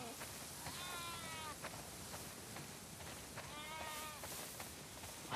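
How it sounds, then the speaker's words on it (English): Several sheep in The Last of Us Part 2 bleat in drawn-out, wavering calls near a farm barn over a steady background hiss, two clusters of bleats a few seconds apart. "Wow, that's a lot of sheep."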